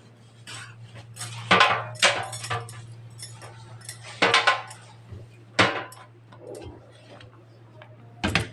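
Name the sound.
washing dishes, pots and utensils clinking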